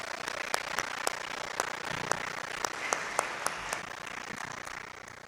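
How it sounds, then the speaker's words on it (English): A graduation ceremony audience applauds the Grade 12 graduating class, a faint, distant, steady patter of many hands clapping, with a few sharper individual claps standing out before it fades slightly. "we'll give one more round of applause here for the graduating class"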